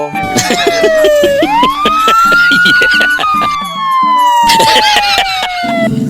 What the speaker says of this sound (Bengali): পুলিশের গাড়ির শব্দ শুনে এভাবে চলে গেল